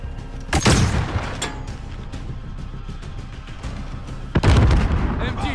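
Machine gun fire and heavy booms ring out in the Call of Duty Modern Warfare video game, with two loud blasts over dense, rumbling battlefield noise.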